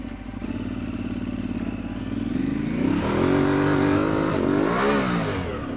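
A motorcycle engine idles with a steady low rumble, then revs up and rides off, its pitch rising and falling as it accelerates nearby, loud and alone without talk.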